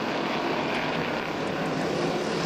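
A pack of Super Street race cars takes the green flag at Langley Speedway, their engines merging into a dense, continuous roar that stays loud and even throughout.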